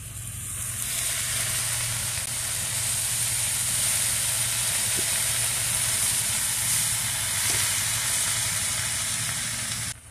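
Jute leaves hit a pan of fried dried shrimp and sizzle, making a steady, fairly loud hiss that holds evenly for about ten seconds before cutting off, with no speech over it.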